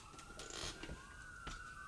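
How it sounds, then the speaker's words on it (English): Ambulance sirens wailing outside, distant and muffled, a steady rising and falling tone through the whole clip with faint background noise. "That's ambulances."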